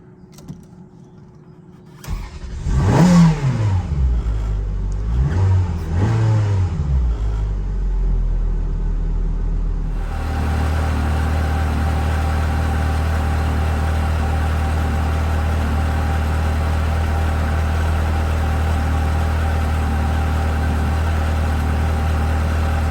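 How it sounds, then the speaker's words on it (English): A Ferrari 360 Modena engine cranks and catches after a short quiet pause, then settles into a loud, steady, rumbling idle that continues unchanged. "I always love this moment when I get to turn the car on."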